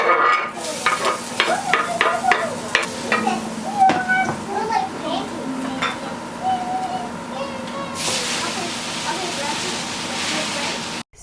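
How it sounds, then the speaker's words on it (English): Garlic and sweet potato leaves sautéing in a pan, a soft sizzle under stirring clinks and scrapes, with a louder burst of frying hiss near the end. "I just sauteed some garlic and then I added my sweet potato"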